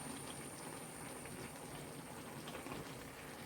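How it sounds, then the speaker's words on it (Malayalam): Coconut oil poured over vegetable pieces for a kootu curry, heard as a faint, continuous soft liquid hiss and patter with no speech. "ഇതിൻ്റെ മുകളിൽ ഞാൻ കുറച്ച് വെളിച്ചെണ്ണയും കൂടെ ഒഴിച്ചു കൊടുക്കുന്നുണ്ട്"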